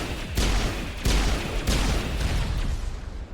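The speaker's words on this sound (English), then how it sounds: "Actually, the pistol's working wonders against the Krogan warriors." Pistol gunfire in the Mass Effect Legendary Edition video game, fired against Krogan warriors: three sharp, loud shots about half a second apart over a dense, rumbling battle background.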